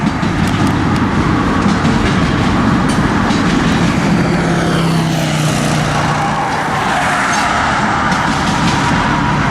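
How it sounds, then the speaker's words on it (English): A CitiRail locomotive-hauled train rolls past at Union Depot, a loud, steady rumble of wheels and cars with faint clickety-clack, continuous and close with no talk. "Great train, nice to see another Citirail locomotive."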